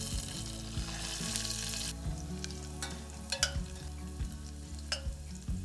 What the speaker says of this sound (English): Let them sizzle for a few seconds.